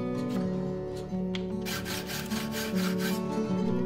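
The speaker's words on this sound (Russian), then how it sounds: "Чтобы ровно отпилить уголок ручной ножовкой по металлу, зажимаю его в тиски" Hand hacksaw for metal cutting a steel angle clamped in a vise beside a second guide angle, giving a continuous raspy back-and-forth sawing that grows stronger toward the end, close up with a low hum underneath.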